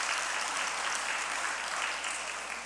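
A church congregation bursts into steady, dense applause for a child's award at a Korean service, the clapping loud and continuous throughout and easing slightly near the end.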